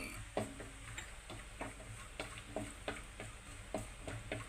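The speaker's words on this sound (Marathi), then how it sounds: "काजू बदामही आपण हलक्या रंगावरती भाजून घेणार आहोत" Cashew and almond slices roast in a kadai while being stirred, a quiet, close, light sizzle broken by a series of soft regular scraping and tapping strokes, with no talking.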